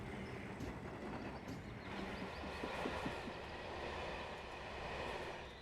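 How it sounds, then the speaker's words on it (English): A locomotive rolls past on the West Highland Line in Train Simulator Classic, a steady broadband rumble with faint rail clatter building and easing through a drive-by, heard alone without talk. "So you hear the loco."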